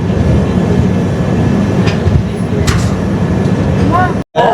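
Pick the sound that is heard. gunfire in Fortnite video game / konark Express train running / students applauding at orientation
konark Express train running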